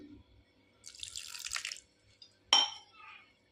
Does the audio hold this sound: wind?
no